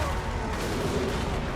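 Volleys of gunfire from Thunderers' guns in a Total War Warhammer battle, a dense continuous crackle of distant shots blending into a steady rumbling roar.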